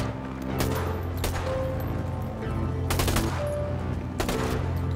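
Automatic machine gun fire in GTA 5 zombie survival play, loud close bursts at about 0.6, 1.3, 3.0 and 4.3 seconds over a steady rumbling game background.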